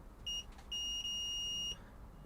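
A multimeter's continuity beeper sounds while probing a circuit board under repair: a short high beep, a brief break, then a sustained steady tone of about a second, faint against a quiet hiss.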